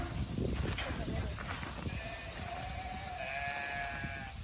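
Goats bleat in short wavering calls amid people talking and general farmyard movement nearby.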